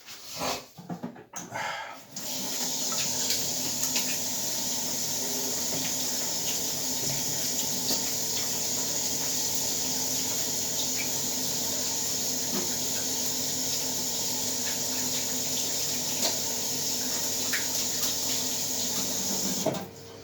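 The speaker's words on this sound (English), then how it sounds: "Just gonna wash my hands." Hands are washed under a running kitchen tap: a steady, even rush of water flows close by for nearly the whole stretch, with faint rubbing and a brief shuffle at the start, no talk.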